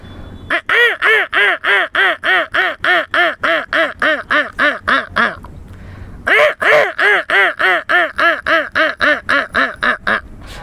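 A voice imitates a lone female duck calling, with a long run of rapid, nasal quacks in a steady rhythm, a brief pause, then another quick burst of quacking.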